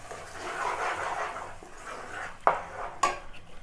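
Tomato puree is stirred into butter chicken masala in a pan: soft, close scraping and mixing sounds, then two sharp clinks of a utensil against the pan near the end, with no talking.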